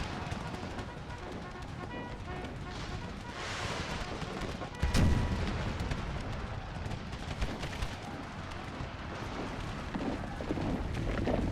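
Howitzer artillery fire in the Empire: Total War video game, a continuous barrage of booming shots and crackling volleys with one sharp, loud blast standing out midway against dense battle din.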